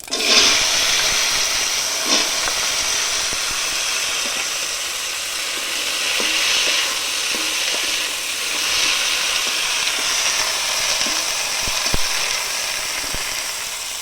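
Taro stolons hit hot oil seasoned with whole cumin seeds, giving a loud, continuous broadband hiss of frying with scattered faint clicks underneath.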